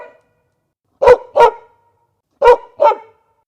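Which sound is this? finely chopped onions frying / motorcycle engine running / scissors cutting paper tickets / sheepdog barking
sheepdog barking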